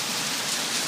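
Steady rain falls outdoors by a fountain in front of the art museum steps, a continuous broadband hiss of drops on hard surfaces, close and even with no voices.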